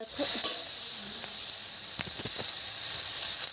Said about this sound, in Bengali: এরকম করে নাড়িয়ে চাড়িয়ে ভেজে নেবো ভালো করে শাকটাকে